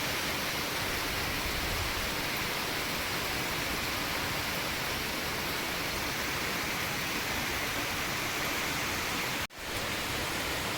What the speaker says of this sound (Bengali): ঝুমঝুম করে বৃষ্টি নেমেছে।